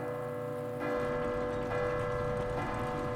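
A bell tolls in Resident Evil 2, its resonant strikes landing about once a second over a steady, humming ambient backdrop, with no voices present.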